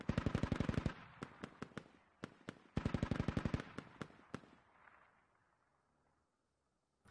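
An MT-LB armored vehicle in the video game Squad fires two long, rapid bursts of heavy machine-gun fire at buildings, with scattered single shots in between, then echoes fade to quiet. No voices are heard.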